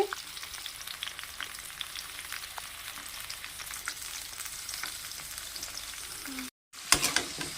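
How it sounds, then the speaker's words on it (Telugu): Broad beans stir-fried in a pan give a steady crackling sizzle with scattered stirring scrapes, fairly close, continuing until a brief dropout and a louder clatter near the end. "చిక్కుడుకాయలు అయితే మనకి ఏగుతున్నాయండి, దోరగా వేపుకోవాలి"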